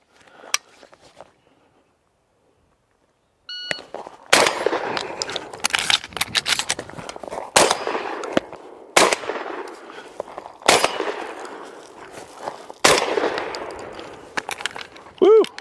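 Shotgun blasts during a multigun training drill with quad loading on the move, a string of about eight loud, sharp, close reports spaced roughly a second apart with rattling handling noise in between, after a brief quiet start.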